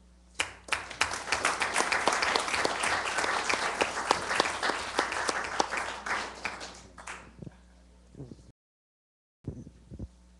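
Council meeting audience bursting into sustained applause for Business Appreciation Day in the City of Dublin, dense clapping for about eight seconds before falling silent, then a few faint stray sounds.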